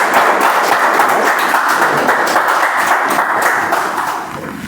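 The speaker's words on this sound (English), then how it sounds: "So let's give a huge round of applause to Toastmaster." A room of attendees at a Toastmasters club meeting gives a loud, dense round of applause that runs steadily, easing off slightly toward the end.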